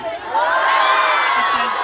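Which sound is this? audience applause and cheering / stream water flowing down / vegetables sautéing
audience applause and cheering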